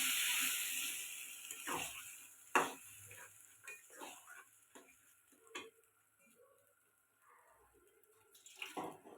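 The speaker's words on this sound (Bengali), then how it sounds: "এবার ডালটা দিয়ে দিব।" Cooked mung dal pours into a hot pan of sautéed vegetables with soft wet splashes and quiet sizzling, followed by scattered stirring clinks and scrapes, faint and close.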